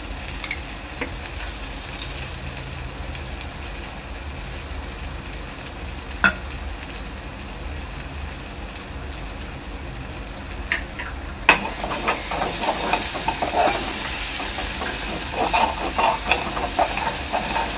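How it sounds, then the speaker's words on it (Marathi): Tomato paste frying in oil in a pan over low gas, a steady close sizzle and hiss throughout with a few scrapes of stirring that grow busier and louder toward the end, no talk. "तळून घ्यायचं आहे। गॅस थोडा बारीक ठेवायचा आहे।"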